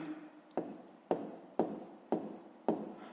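Pen or pencil writing numbers on paper by hand, about five quick scratchy strokes in an even rhythm, close and fairly quiet with no talking.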